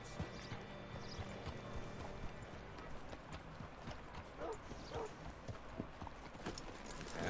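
A horse's hooves clop at a walk on hard ground, faint and steady under low background noise, with a voice speaking quietly.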